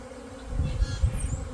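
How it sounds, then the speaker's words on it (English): Honeybees swarm around a nucleus colony hive during installation, their dense, steady buzz close and loud, swelling slightly midway with no voices. "I'm knee deep in bees."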